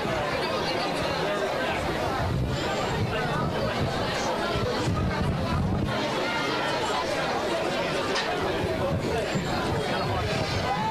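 A large crowd lining the route of the Martin Luther King Jr. Day parade in Washington, D.C., a steady hubbub of many overlapping voices and chatter, close and continuous throughout.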